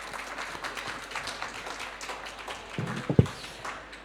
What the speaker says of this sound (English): let's give them a round of applause at this point.